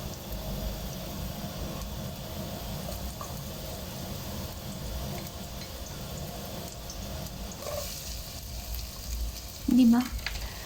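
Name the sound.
beef ribs and onion sautéing in a pan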